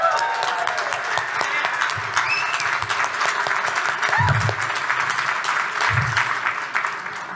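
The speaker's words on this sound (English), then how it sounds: "Could we give them a round of applause?" A breakfast fundraiser audience gives a sustained round of applause for two former staff members, dense steady clapping filling the room for several seconds with a few faint voices underneath.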